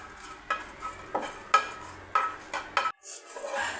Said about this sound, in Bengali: এখন আমি ভালো করে পেঁয়াজ মরিচের সাথে ভালো করে মাখিয়ে নেব